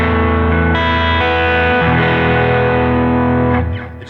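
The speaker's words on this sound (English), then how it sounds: "it's going to boost the signal and make it distort a little bit" Electric guitar played through a boost pedal driving a tube amp into mild distortion: sustained, loud overdriven chords ring continuously, shift to a new chord partway through, then begin to fade at the end.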